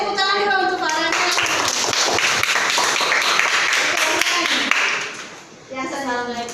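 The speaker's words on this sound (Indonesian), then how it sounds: "tepuk tangan dulu untuk Farhannya" A class of schoolchildren in an Indonesian classroom claps together for a classmate, a dense burst of applause lasting several seconds. It fades near the end, with a voice speaking before and after.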